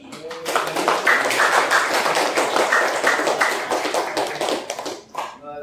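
Audience clapping for two presenters at the close of a group class presentation, a dense, steady burst of many hands near and loud, lasting several seconds before tapering off.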